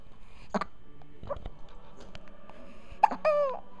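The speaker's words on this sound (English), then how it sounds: "You got those hiccups." A baby hiccups several times, small abrupt bursts spaced irregularly and close by in a quiet room, with a brief whimpering vocal sound near the end.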